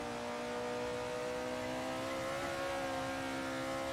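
A car engine held at full throttle in Assetto Corsa makes a steady, loud, sustained drone with a constant pitch for the whole stretch, close and unbroken.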